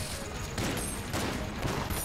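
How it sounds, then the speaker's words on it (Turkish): Shotgun blasts in the twin-stick shooter Enter the Gungeon during a boss fight, a dense, loud burst of overlapping game gunfire and explosive impacts filling the whole stretch without pause. "Ama bu pompalı fena vurmuyormuş ya"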